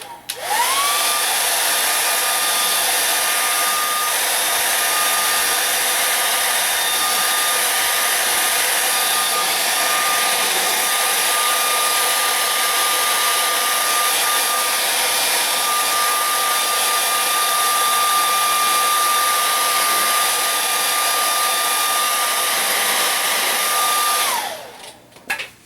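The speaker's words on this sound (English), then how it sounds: "I'm going to hit this with the dryer once again." A hair dryer blows steadily across a fresh acrylic painting, a loud, even motor whine and rush of air running unbroken for about twenty-five seconds before clicking off.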